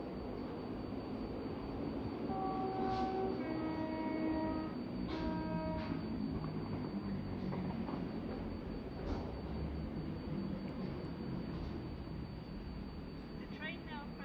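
A Gatwick Express train runs non-stop through South Croydon station on the Brighton Main Line, making a loud, steady rolling roar that fills the whole stretch, with a few brief tonal notes early on.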